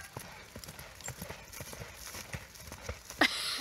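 A ridden horse clip-clops steadily across an arena, its quick hoofbeats close and distinct, with a brief sharp knock near the end and no talking over the hooves.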